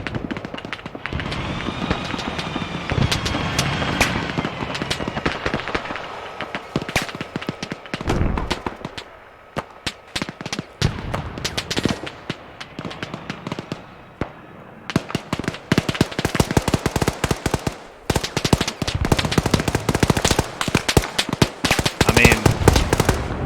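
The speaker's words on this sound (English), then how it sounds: "there's a firefight going on" Gunfire from a firefight in the ARMA 3 video game, with dense, loud bursts of automatic fire and sharp single shots that cluster and fade, pause briefly, then return in rapid crackling volleys.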